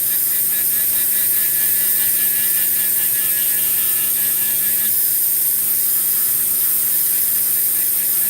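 A rotary tool spinning at about 15,000 RPM while polishing a polymer clay piece gives a steady, continuous high whine with a constant hum underneath, running unbroken and fairly close throughout.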